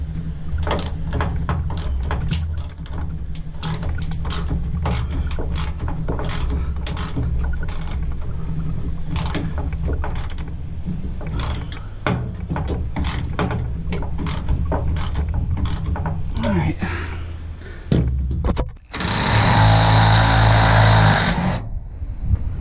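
Ratchet driving a T50 socket on a Ford F-150 tailgate, a long run of rapid, close clicking with a short louder burst near the end.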